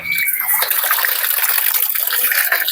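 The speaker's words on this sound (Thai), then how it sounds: "นี่คือน้ำล้างคก น้ำล้างคก น้ำล้างคกเข้าไป" Mortar-rinsing water pours into a pot of Isan-style frog curry, a loud close splashing gush that runs steadily for a few seconds, no talk.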